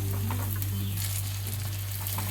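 Sago and potato bonda deep-frying in hot oil, a steady close crackling sizzle over a constant low hum, with no talk.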